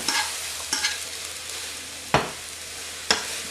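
Scrambled eggs being stirred in a hot pan, a soft frying sizzle underneath and a few sharp scrapes of the utensil against the pan standing out at irregular intervals, close and fairly quiet.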